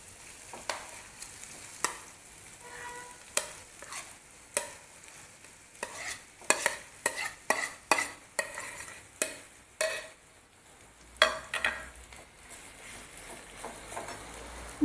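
Smashed potatoes stirred in a frying pan for a bread pakora filling, with repeated scraping strokes of a spoon against the pan over a light sizzle, close by and no voices.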